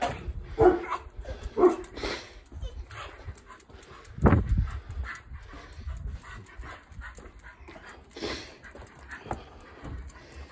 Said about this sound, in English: Can you hear the other dogs?